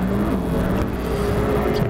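An IMCA stock car runs at speed on a speedway track during qualifying, producing a loud, sustained engine roar that holds steady across the short moment without any break.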